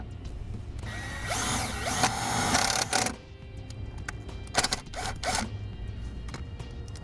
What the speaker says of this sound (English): We'll start by getting our hole drilled first.